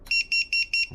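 An FPV freestyle drone's buzzer, assigned to a switch, beeps in five short, evenly spaced high-pitched tones, close and clear, with a low thump at the end.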